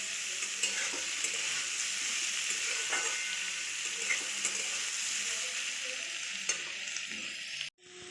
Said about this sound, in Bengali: এবারে 2 থেকে 3 মিনিট মতন এগুলোকে ভালো করে ভেজে নেব।